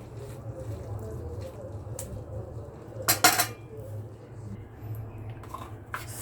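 Turnip cake mixture being stirred with salt in a pan, giving soft scraping and light utensil clinks against the pan, with a brief sharper clatter partway through, all at low volume.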